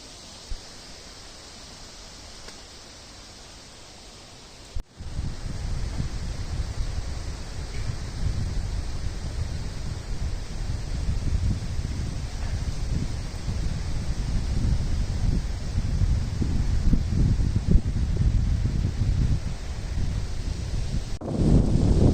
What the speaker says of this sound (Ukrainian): а вітер не припиняється